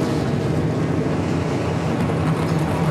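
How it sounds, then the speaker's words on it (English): NASCAR Nationwide Series race car engines at Dover's Monster Mile during the 2012 5-Hour Energy 200, a steady, loud, continuous roar of many engines idling together with no talk. "And the engines have fired here at the Monster Mile."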